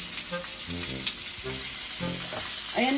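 Tuyo dried fish frying in a pan, with a steady sizzle and scattered crackles and pops throughout, moderately close with a constant hiss underneath.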